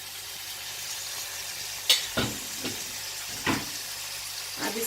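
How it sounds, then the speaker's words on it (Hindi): Chicken fries in a hot pan with butter and olive oil over a medium flame, filling the air with a steady close hiss. A few sharp knocks from stirring cut through it. "ये जो पैन हमने गरम किया हुआ है बटर और ऑलिव ऑयल डाल के इसमें चिकन डाल देंगे"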